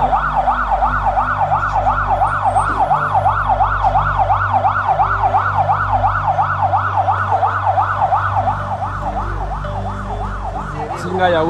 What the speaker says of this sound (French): Les sirènes hurlent